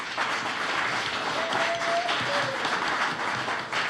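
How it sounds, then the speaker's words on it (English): A live music crowd at a Sunday sampler gig applauds the sound engineer, a continuous moderate patter of many hands clapping in a room, steady and unbroken for several seconds. "How about a round of applause for Mike McKee over here on sound?"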